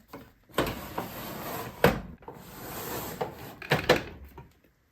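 A makeup storage drawer slides open and shut several times at close range, giving short woody thumps and scraping rattles separated by brief pauses, with no talking.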